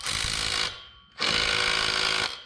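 Two loud, rapid hammering bursts from a small impact wrench on a 12mm driveshaft bolt of a Mitsubishi Evo X MR, close up, separated by a brief pause with no voices.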